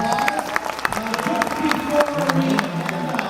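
A crowd at a Comic Con Q&A panel in Niagara Falls claps and cheers, with scattered voices mixed into the dense applause throughout.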